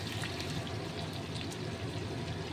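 Leftover masala spice paste poured over stuffed eggplants for bharwa baingan, a soft steady wet pour and trickle running close and continuous without talk.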